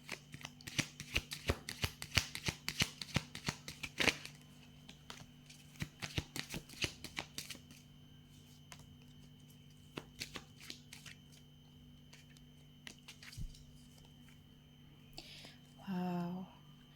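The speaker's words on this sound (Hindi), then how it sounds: "अब हम आपके टैरो कार्ड्स लेते हैं।" Tarot cards are shuffled by hand in close, crisp bursts of riffling and flicking, some sharper slaps among them, thinning out toward the end, with a faint voice briefly audible.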